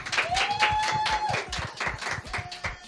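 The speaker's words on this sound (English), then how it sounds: "let's give him a round of applause as he comes on stage" An audience gives scattered, uneven claps as a DJ comes on stage, with a tonal whistle or music line running through the middle and spaced bursts of hands at moderate distance.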